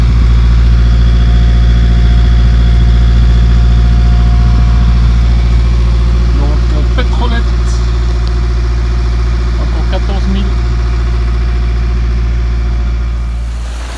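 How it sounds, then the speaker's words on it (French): A sailboat's diesel engine runs under motor on calm Aegean water, a loud steady low drone throughout with faint higher clatter and brief voices in the middle before it eases slightly at the end. "En route sous moteur"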